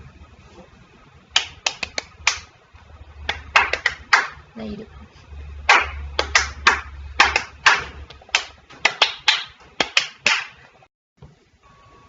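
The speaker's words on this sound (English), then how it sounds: "Claire and myself are now going to demonstrate how children can understand patterns through clapping" Two people clap out rhythmic patterns to show how children learn patterns in class, with sharp, close hand claps in quick groups and short runs separated by brief pauses, and a few words spoken between them.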